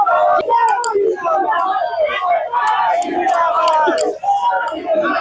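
Large crowd of protesting students chanting slogans in unison, loud rhythmic shouted voices rising and falling continuously close by, with some individual yells cutting through.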